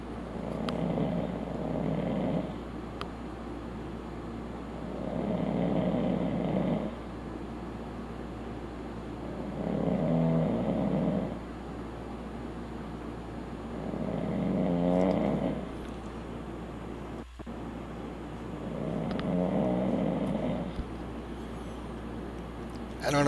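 Recorded snoring from a sleeper, five slow, evenly spaced rasping breaths about every five seconds, fairly loud and close over a steady background hum, with no talking.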